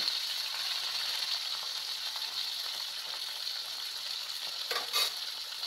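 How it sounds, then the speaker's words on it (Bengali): Fish heads and tails frying in hot oil, a steady dense sizzle holding for the whole stretch with a brief louder flare near the end, close and alone with no talk. "এটাই আজকে একটু গরম গরম ভাজবো"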